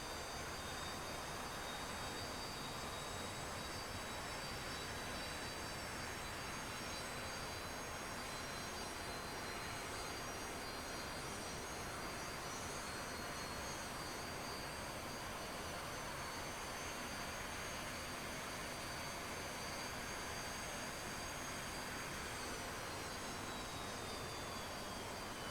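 In a flight-simulator mod, the first engine of a UH-60L Black Hawk helicopter spools up with a constant turbine whine and roar that slowly rises in pitch, loud and steady throughout with no voices.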